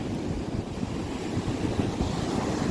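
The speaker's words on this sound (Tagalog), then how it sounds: "Ang lakas ng alon doon" Strong sea waves crash and churn against a seawall in a steady, roaring wash, with gusty wind buffeting the microphone throughout and no voices.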